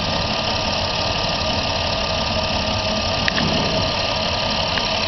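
A 2008 Dodge Grand Caravan SXT with a 3.8L engine and a coolant leak idles steadily, a loud, constant engine drone with a faint knocking texture and a brief click midway.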